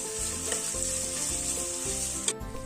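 Garlic and ginger hit sautéed onions in a pan for Arabian chicken madhooth, giving a steady close sizzle with periodic scraping stirs and a faint tonal background, no voices.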